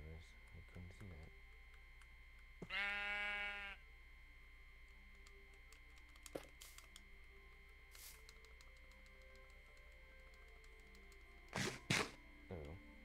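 In a video game, a single loud sheep bleat of about a second rises out of a quiet hum, with scattered clicks and a few brief taps around it.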